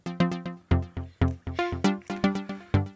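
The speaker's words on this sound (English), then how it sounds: "this is basically my two Moog Mother 32s layered to behave as kind of one super synth" A pair of Moog Mother-32 synthesizers layered into one voice plays a fast, percussive melodic sequence of sharp plucked notes with the drums muted, each note snapping in and decaying quickly, close and clear with no talking.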